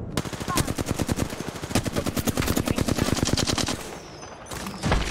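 Rapid automatic gunfire in the Apex Legends video game, long bursts of loud, closely spaced shots filling most of the stretch before easing off, then a final crack at the end.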